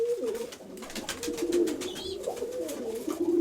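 Several pigeons in a loft coo in overlapping, rolling phrases close to the listener, a continuous low warble with a brief higher chirp, no one speaking.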